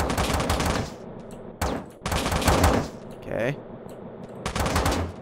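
Rapid automatic gunfire from two gun turrets in the top-down shooter Teleglitch comes in loud bursts with short pauses between them, and someone briefly speaks over the shooting.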